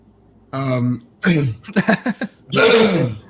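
A man clears his throat and coughs in several bursts: a rough hacking clear, then a series of short choppy coughs, and a final long throaty rasp, close and loud with no talk.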